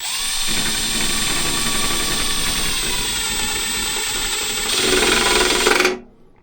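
A Milwaukee SubCompact impact driver with a Ryobi bit drives a pointed, non-self-drilling screw. It gives a loud, continuous whirring buzz that grows more intense near the end and then stops abruptly, with no talk over it.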